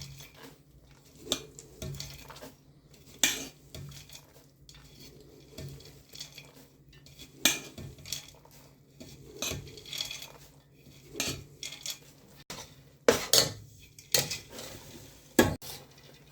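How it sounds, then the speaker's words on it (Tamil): A spoon stirs fried boondi into sugar syrup for Tirupati laddu, the pot taken off the stove. Scraping clinks and sharp metallic knocks recur in an irregular rhythm against a quiet background, with no voices. "இந்த நேரத்தில் வந்து அடுப்பை நிறுத்திட்டு பூந்தியை கொஞ்சம் கொஞ்சமாக போட்டு கிண்டி விட்டுக்குவோம்."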